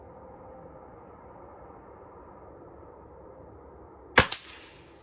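A Diana Mod. 54 Air King air rifle fired offhand at a target gives one sharp, loud crack with a brief twang afterward, following several seconds of quiet outdoor background.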